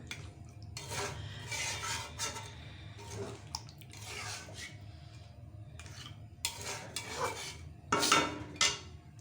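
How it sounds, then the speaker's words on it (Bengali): Mung dal being sautéed in a pan for a fish-head muri ghonto, with scraping and rubbing of a spatula against the metal and occasional louder clinks of utensils, near and fairly quiet. "মুগ ডাল এখন কষায় নেব"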